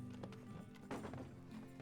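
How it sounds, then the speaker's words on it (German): Horse hooves clip-clop in the Treasure Island video game, a quick, quiet rhythmic clatter of steps over a low background for under two seconds. "A horse."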